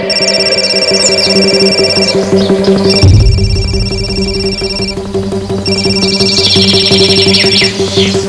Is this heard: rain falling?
no